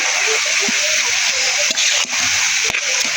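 Two eggs fry in a hot pan with greens, giving a loud, continuous hissing sizzle dotted with sharp pops and crackles throughout.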